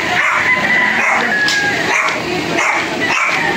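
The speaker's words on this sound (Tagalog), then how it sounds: "Ito yung kanyang mga alagang pets, mga aso." Pet dogs on a farm in Padre Garcia, Batangas, yipping and barking in short repeated bursts, fairly close and loud, with a rooster-like call mixed in.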